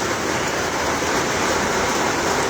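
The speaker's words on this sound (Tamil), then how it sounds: "நல்ல மழை காலையில் ஒன்பது மணிக்கு கொட்டிக்கிட்டு இருக்கு" Heavy rain pouring steadily at nine in the morning in Peravurani, a dense continuous wash of close, loud downpour with no voices.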